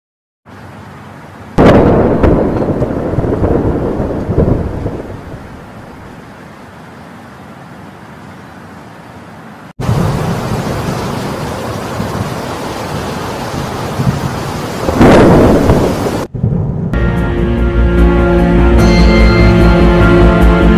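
Thunder from a dense lightning storm: loud, broad rumbling crashes in several separate bursts with sharp onsets, followed at the end by a short stretch of music.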